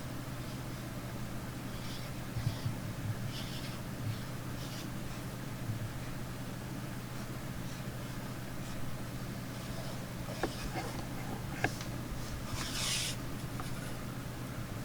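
A pen nib scratches across paper in quiet strokes, a soft continuous rasp over a low steady hum, with a few sharper marks near the end.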